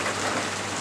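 Heavy rain pours steadily during a nighttime thunderstorm, a dense, even hiss of drops falling nearby with no other sounds standing out.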